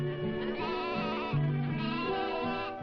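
Sheep and goats kept by Navajo herders bleat in a chorus of overlapping wavering calls, close and continuous, with several animals crying at once.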